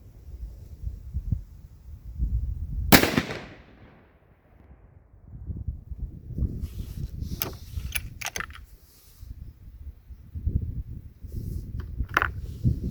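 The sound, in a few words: 6.5 Creedmoor rifle shots, Mossberg Patriot Predator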